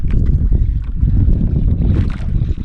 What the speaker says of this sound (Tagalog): Mahangin na ngayon.